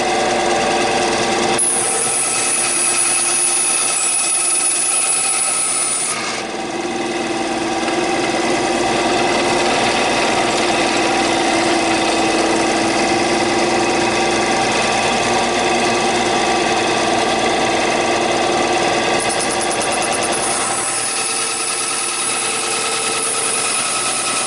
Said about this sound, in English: you don't want to force it into the bandsaw. You want to give it enough time for the bandsaw to make the good cut